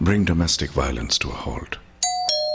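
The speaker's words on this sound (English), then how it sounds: "Ring the bell." A two-tone doorbell chime rings out clearly right after a stretch of speech, its bright tones sustaining and ringing on to the end.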